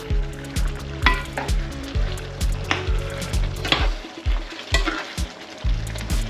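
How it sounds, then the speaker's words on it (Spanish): Fried potatoes tumble into a thick, sizzling carbonara sauce in a hot pan, giving steady frying crackle with repeated clinks and scrapes of a utensil stirring through, close and fairly loud with no talking. "Este es el momento en el que le añadimos las patatas."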